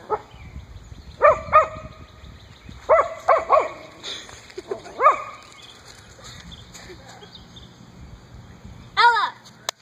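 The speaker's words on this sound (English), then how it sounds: "The barking's kind of scaring the deer now." A cocker spaniel barks in short bursts at a deer, a pair of sharp barks then a quick cluster, with a final bark after a pause, fairly close over faint outdoor background.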